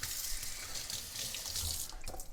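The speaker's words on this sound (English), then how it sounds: "Then I take both of these over to the sink and just rinse them." Coffee maker parts rinsed under a kitchen sink tap, a steady hiss of running water splashing onto them at close range, fairly quiet and continuous, with no one talking.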